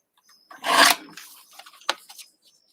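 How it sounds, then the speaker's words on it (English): Cutter trimming craft paper up close, a short scraping cut followed by a few lighter rustles and a quick snip. "pull out my cutter. I'm just going to trim this."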